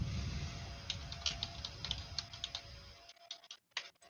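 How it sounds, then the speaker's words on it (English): Rapid clicking of a computer keyboard, with irregular bursts of keystrokes over a low background rumble that drops away near the end, leaving the taps sharper and isolated. "I can hear your keyboard"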